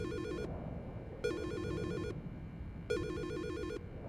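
A telephone rings in Silent Hill: Shattered Memories, three electronic ring bursts sounding in a steady on-off rhythm over a low background rumble, loud and close, with no talking.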